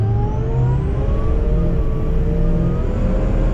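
A Ford F350 Powerstroke diesel truck engine runs steadily at around 2,000 RPM, with a thin power steering pump whine riding over the low continuous rumble, loud and close with no talking.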